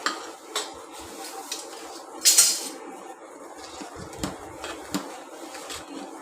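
Ground rice mixed into a pan for gud papdi (sukhdi), with a spoon scraping and knocking against the metal pan in irregular strokes and a few sharper clinks, close up and alone.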